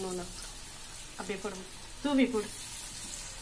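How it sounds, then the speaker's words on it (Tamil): Chicken legs fry in hot oil with a steady, close sizzle and crackle, while someone speaks briefly over it. "இப்போ வாங்க நம்ம எண்ணெயில போட்டு பொரிச்சு எடுத்துக்கலாம்."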